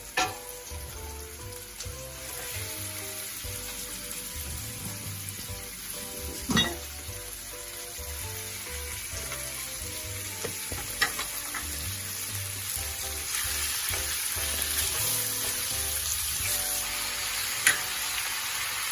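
Pork spare ribs for afritada fry in a pot with a steady, crackling sizzle that builds slightly over time, with occasional utensil knocks and scrapes, heard close up.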